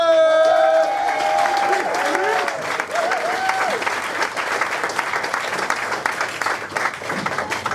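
Audience applause at a comedy show at Skinny Pancake, a steady, full wash of clapping from a crowd that holds strong throughout, with a few cheers and an announcer's voice trailing off at the start.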